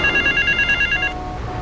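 An electronic telephone in the video game GTA 3 trills in rapid, evenly pulsed bursts for about a second, then cuts off, leaving a low steady tone.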